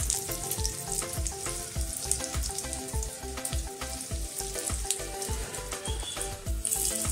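Kothimbir vadi pieces shallow fry in hot oil, giving a close, steady sizzle dense with sharp crackles and pops and no voices.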